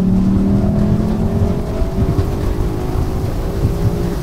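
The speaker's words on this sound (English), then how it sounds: "Winding out that V8 engine is just phenomenal." The V8 engine of a 2021 Lexus LC500 Convertible revs hard and holds a loud, steady growl, its deep rumble rising slightly as it winds out, with no voices.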